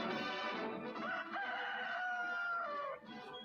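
A rooster crows once in a long, loud, close cock-a-doodle-doo that rises and holds before trailing off, heard alone without talk.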